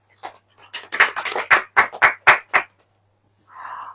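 A congregation at a Christian worship service breaks into a short burst of loud, close claps, about eight sharp hits in an irregular rhythm, followed by a pause and then a faint murmur.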